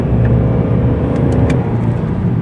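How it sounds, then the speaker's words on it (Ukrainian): A BMW 320 with a 2.0-litre engine runs loud and close from inside the cabin, a steady low engine drone with a slight rise as the throttle is pressed, and no talking. "просто я вам покажу, як на газ нажати"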